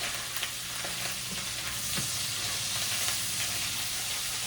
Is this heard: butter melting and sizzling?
yes